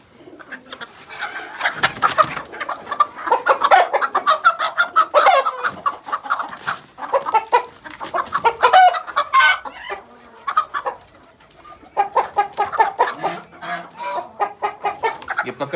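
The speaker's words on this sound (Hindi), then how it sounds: "ये वाला रेड एक मुर्गा पकड़ा गया।" A red desi rooster clucks and squawks repeatedly in agitated bursts after being caught on an open farm, loud and close with brief pauses between runs of calls.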